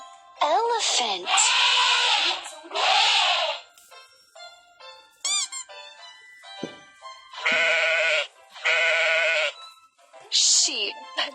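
Sheep bleat in loud, wavering, drawn-out calls, several in a row with short pauses between them, close and clear with nothing else behind them.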